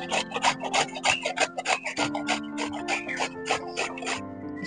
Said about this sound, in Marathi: आतां हांवें न्हू कॅरट घेयला आनी तो कॅरट न्ही अशें करून किसणीचे किसून घालपा जायो.